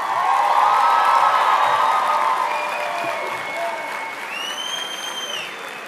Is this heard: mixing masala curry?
no